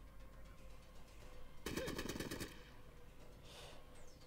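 Enemy gunfire in the video game Fallout Tactics, a rapid machine-gun burst of evenly spaced shots lasting under a second, followed by a fainter whooshing effect, all fairly quiet against low background noise.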